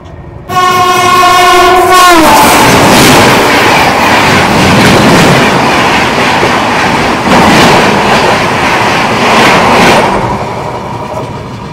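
A passenger train running along the railway past Durgapur station opens with a loud sustained horn blast, then a close, heavy rumble and rattle of wagons rolling on.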